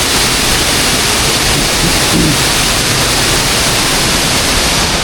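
Loud, steady rushing roar of a jungle waterfall, a dense unbroken wash of falling water filling the whole clip.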